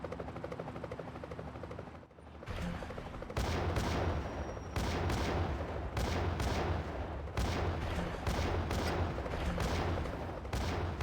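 Explosions and a helicopter during a firefight in Grand Theft Auto: Chinatown Wars as an RPG is readied. The loud, dense game soundscape is broken by repeated sharp impacts, with a steady rotor-like drone running underneath and no talk.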